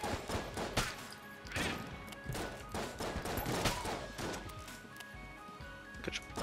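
Shotgun blasts in the roguelike shooter Enter the Gungeon, dense overlapping bursts and impacts firing almost continuously, loud and busy throughout with game effects layered over each other.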